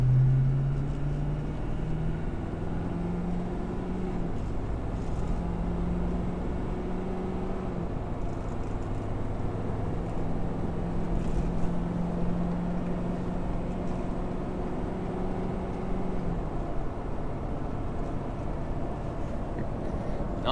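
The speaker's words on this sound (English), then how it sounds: "Climbing up a hill, accelerating." A Ford Powerstroke diesel truck climbs a hill under acceleration while towing a heavy load of 14,000 to 15,000 pounds, a steady, low engine drone with a slowly rising pitch, heard from inside the cab without talk.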